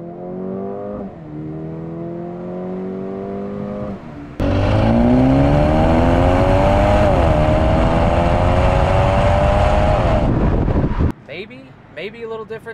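A 2023 Mercedes-AMG CLA35 accelerates hard in sport mode, its engine note climbing steadily under a loud in-car drone, rising through the gear without a downshift before dropping off near the end.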